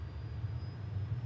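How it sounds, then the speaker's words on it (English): A Citation CJ3+ jet engine starting, heard as a low, steady rumble with a faint high whine held throughout, fairly quiet and with no talk over it. "Right engine start."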